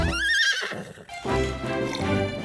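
A horse neighs loudly with a harmonic whinny that falls in pitch, followed by clopping hooves and a lower snorting neigh in a cartoon farm scene.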